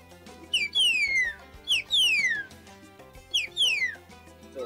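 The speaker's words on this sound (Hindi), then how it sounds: "एक सीटी बजाई जाती है" Loud, shrill whistles blown to call pigeons sweep downward in three separate pairs of bursts, each a short note and then a longer gliding one, close and clear.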